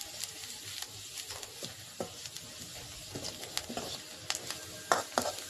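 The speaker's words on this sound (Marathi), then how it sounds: "मी हा मसाला परतून घेते आता." Spice masala with turmeric being stirred and sautéed in a pan for a mixed vegetable curry, with a soft steady sizzle and irregular scraping stir strokes close by, no talking.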